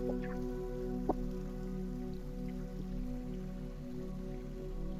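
Water trickles and drips steadily in a calm, continuous wash, with a faint low hum beneath and an occasional sharper drop standing out.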